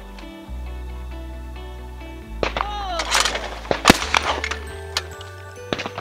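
A shotgun fires at a clay target on an outdoor sporting clays course, a sharp crack with ringing decay cutting through low background music.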